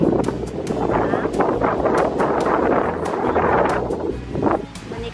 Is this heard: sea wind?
yes